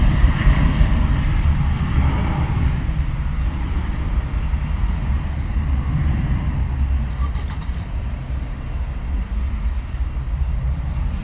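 A jet airliner roars steeply upward after takeoff from London Luton Airport, a loud continuous broadband rumble that stays strong throughout, heard from the ground nearby.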